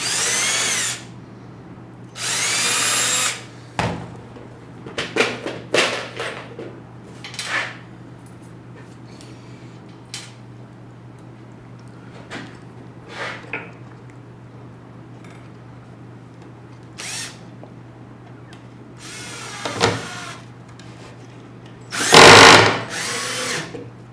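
A power drill drives screws into a homemade mouse trap in several short, loud whirring bursts, with quiet pauses between them.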